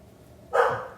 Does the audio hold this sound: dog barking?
yes